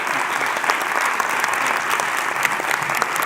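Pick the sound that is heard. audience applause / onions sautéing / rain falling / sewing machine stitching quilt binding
audience applause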